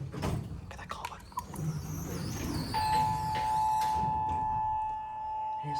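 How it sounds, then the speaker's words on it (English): A 1963 Payne/Stanley traction elevator's hall call chime, modified by PTL, rings out in a university building's hallway, sounding as a sustained bright tone that keeps on after a few knocks and some rustling. "that chime's gonna keep ringing"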